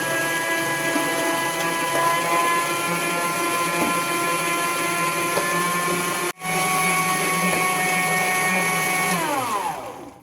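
Electric stand mixer beating banana cake batter with egg yolks, a loud steady whir running alone for about nine seconds with a brief cut midway, then winding down as the motor stops.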